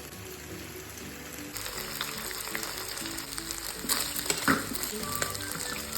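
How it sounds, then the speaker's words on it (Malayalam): Marinated chicken fries in oil in a pan, a continuous crackling sizzle that grows louder and busier partway through, with occasional stirring clinks and no talking. "ഇനി ചിക്കൻ ഫ്രൈ ചെയ്തെടുക്കാം."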